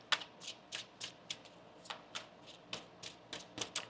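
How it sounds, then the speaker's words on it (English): Tarot cards are shuffled by hand in a quiet room, a series of soft, crisp riffling bursts about twice a second, close and gentle, with no talking. "One more shuffle"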